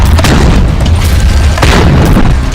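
Ground-launched rockets fired by Hamas fighters in the Israel conflict, heard as loud, continuous booming blasts and rumbling roar, close and saturated, with several heavy explosive surges over a few seconds.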